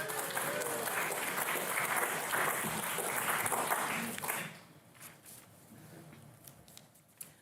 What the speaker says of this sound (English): I hope that you might join me in applauding our host